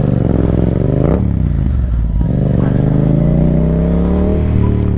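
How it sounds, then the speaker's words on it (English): A 2024 Yamaha MT-07 motorcycle being ridden, its engine droning and rising in pitch through revs, close and loud, with some clatter and wind, no talking. "There's something about this motorcycle that just makes me just ride like such an ass"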